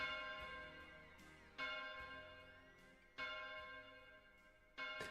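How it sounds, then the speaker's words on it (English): Church bells tolling slowly at a steady pace in a song's long fade-out, each ringing strike decaying into a long shimmering resonance before the next, fairly faint overall. "a long fade out with church bells"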